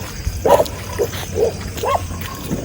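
Dogs bark outdoors in four short, separate barks spaced roughly half a second apart, moderately close and clear over a quiet background.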